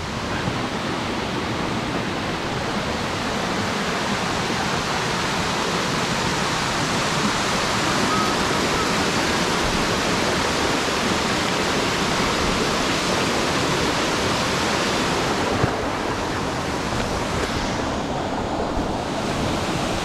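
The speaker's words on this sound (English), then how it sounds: "As we're getting closer, there's all the overspray from the waterfall." A waterfall at Larapinta Falls in Lamington National Park roars as a broad, steady wash of falling water and overspray, with a breeze blowing across the microphone, loud and unbroken throughout.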